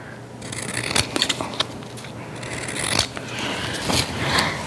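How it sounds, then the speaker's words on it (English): Scissors snip through paper while trimming pieces for a diamond painting junk journal, a few crisp close cuts with soft rustling and shuffling of paper between them. "I'm actually gonna trim a little bit there."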